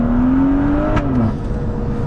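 A stage 2 tuned 440 bhp BMW M135i drives along, its exhaust giving a loud, steady drone with a tonal rise in pitch as it accelerates, then a brief shift before settling back into a continuous engine note.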